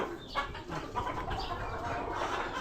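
Chickens and pigeons kept on a rooftop farm give faint, scattered clucks and soft coos against a low, noisy background.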